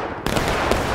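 A massed volley of gunfire on command in a video game skirmish battle breaks out abruptly after a brief silence: one loud, sharp crack of many shots together, then a dense rolling roar that carries on.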